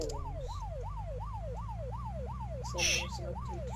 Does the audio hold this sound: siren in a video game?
yes